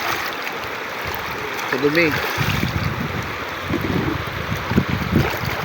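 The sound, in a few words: river water flowing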